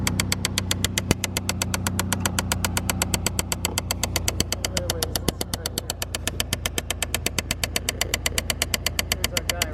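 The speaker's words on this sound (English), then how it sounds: "It's continuing to click and potentially run down your battery." An air door actuator behind the dash of a GM Impala clicks in a steady rapid train while the engine idles and the AC runs, the clicking loud and continuous over a low engine hum.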